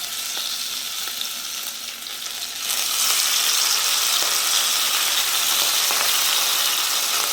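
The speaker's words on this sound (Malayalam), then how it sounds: "മാരിനേറ്റ് ചെയ്ത് വെച്ച ഈ കണവ നമുക്ക് ഫ്രൈ ചെയ്തെടുക്കണം" Marinated squid frying in coconut oil, a steady close sizzle that jumps louder after a few seconds as more pieces hit the pan, continuing without talk.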